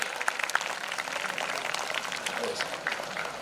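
Crowd applause at a school ceremony honoring the top three students of a preliminary exam, as a steady, dense patter of many hands clapping throughout, with a voice faintly underneath.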